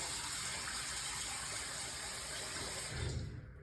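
Tap water gushes steadily from a faucet to wet a face washcloth, running loud and constant for about three seconds before cutting off with a low thump and fading.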